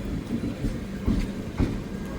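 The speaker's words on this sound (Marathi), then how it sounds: "आणि आता ट्रेन पण निघाली." A train pulls out of Kudal station in the Konkan, giving a low, heavy rumble with a few rhythmic thumps of wheels over rail joints.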